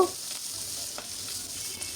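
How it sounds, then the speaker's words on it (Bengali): Stinging catfish frying in oil in a pan and being turned over, a steady close sizzle throughout with a faint scrape of the flip at the start. "একটু উল্টে পাল্টে ভেজে নিচ্ছে খুবই হালকা করে ভাজবো"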